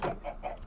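Chickens clucking in a video game, a short burst of a few quick, close clucks in a row.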